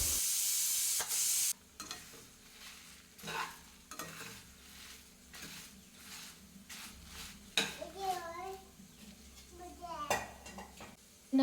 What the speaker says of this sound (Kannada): ಮುರಿಯೋವರೆಗೂ ಫ್ರೈ ಮಾಡಿಕೊಂಡ್ರೆ ತುಂಬ ಒಳ್ಳೆಯದು